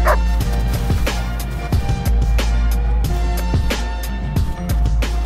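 A dog barks repeatedly while playing fetch in snow, a steady series of loud, close yips and woofs with no talk over them.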